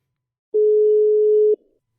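A single steady telephone call tone, heard while calling a guest on a radio-style talk show; one unbroken electronic beep of about a second, clear and alone, with no talking over it.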